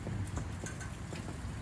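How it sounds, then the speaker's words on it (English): Rain from a July storm falls in Playa del Carmen, Mexico, a dense close patter with scattered distinct drops striking a surface, steady throughout with no voices. "you can see how the rains are becoming less"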